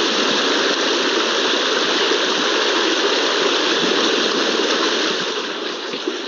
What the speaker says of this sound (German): um einfach mal zu zeigen, wie tauender Permafrost sich so anhört